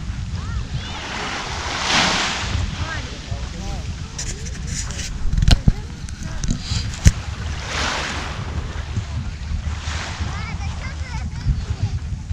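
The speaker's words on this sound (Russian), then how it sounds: "Слышите, море шумит." Sea waves wash onto a sandy shore at Nagaev Bay in Magadan in October, swelling and receding in slow surges under gusty wind buffeting, with people talking nearby and a few sharp knocks.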